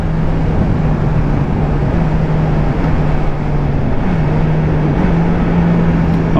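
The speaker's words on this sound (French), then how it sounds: "le nouveau pot, il chante un peu moins fort" A motorcycle engine fitted with a new, quieter exhaust pipe holds a steady drone with a faint tonal hum over broad road noise, running continuously and fairly close.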